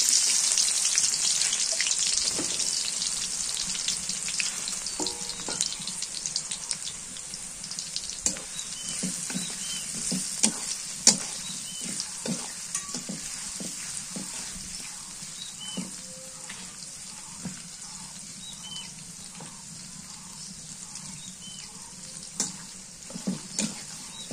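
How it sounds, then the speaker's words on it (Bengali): Onions fry in a pan over a clay stove, a steady sizzle and crackle with scattered stirring clicks running throughout, moderately loud and close. "পেঁয়াজ ভাজে নেই"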